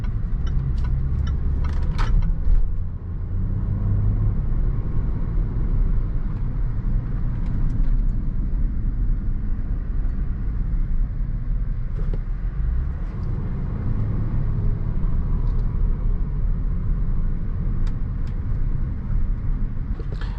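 A 2018 Land Rover Range Rover SUV rolls slowly into a parking lot, its engine a steady low rumble heard from inside the cabin, continuous and fairly loud with no talking.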